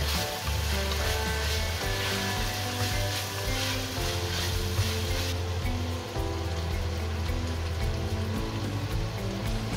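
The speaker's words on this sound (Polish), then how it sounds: "I mieszamy" Vegetables cook in a pot with a dense, even sizzle and hiss while being stirred, loud and continuous with no pauses.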